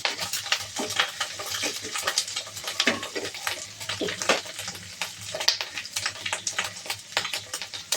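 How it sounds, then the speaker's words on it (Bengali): Ginger fries in oil in a pan for a hilsa fish curry, with uneven crackling sizzle and intermittent stirring and scraping sounds close by, with no talking. "আদাটা একটু ভেজে নেব।"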